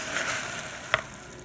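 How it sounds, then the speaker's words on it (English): A hot, bubbly homemade candy mixture sizzles steadily up close, with a small clink partway through. "When it comes out, it's very hot and bubbly. Put that in, it'll sizzle."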